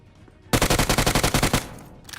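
Gunfire in the Free Fire video game: a rapid automatic burst of about a dozen evenly spaced loud shots lasting roughly a second, after a quiet lead-in.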